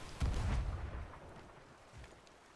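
Ship cannon fire in the pirate video game Sea of Thieves: one deep, muffled boom that rolls into a fading rumble, moderately distant.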